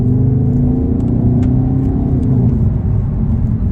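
A 2021 Skoda Octavia RS with artificially enhanced engine sound gives a loud, close, continuous rumbling drone that holds steady throughout, with no one speaking.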